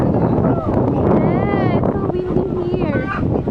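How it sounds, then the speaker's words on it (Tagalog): Strong wind buffets the microphone at a farm during a cousin's birthday, a steady loud roar throughout with voices talking over it and faint tonal whines. "Ang lakas ng hangin no?"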